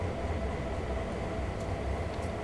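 Freight train hauled by a GP38-2 diesel locomotive at night in Train Sim World 2020, a steady low rumble with continuous wheel and engine drone, even and unbroken with no talk.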